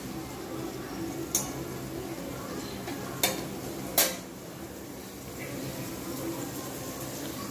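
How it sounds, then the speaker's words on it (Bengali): Onions stirred and fried in white oil in a pan, a low steady sizzle broken by three sharp clinks of a utensil against the pan. "কন্টিনিউ নাড়তে থাকবো পেঁয়াজগুলো"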